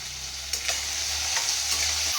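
Potatoes with salt and turmeric fry in a pan, giving a close, steady sizzle with a low hum and a few soft stirring scrapes.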